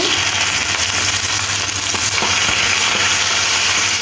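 Chopped onions go into hot oil tempered with panch phoron, dry chilli and bay leaf, making a loud, dense, continuous sizzle with a few faint spatula taps.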